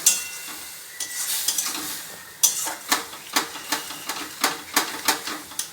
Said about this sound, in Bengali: হ্যাঁ, এটা কষানো হচ্ছে।